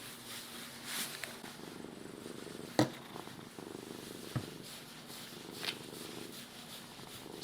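A cat purrs steadily while a groomer brushes her out, a soft continuous low rumble with a couple of brief knocks and rustles from the grooming.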